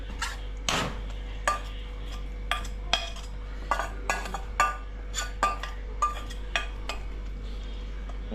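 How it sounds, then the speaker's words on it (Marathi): Cooked, cooled prawns for a prawn pickle are spooned from a pan into another vessel, giving a string of sharp metallic clinks and scrapes about every half second over a low steady hum. "आता आपण ते काढून घेऊया एका भांड्यामध्ये"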